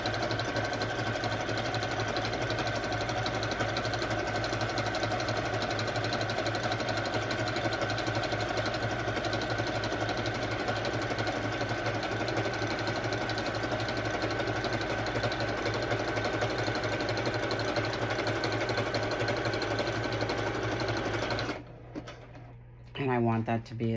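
A sewing machine stitches faux leather from an old purse for a journal cover, humming steadily and close for over twenty seconds before stopping abruptly.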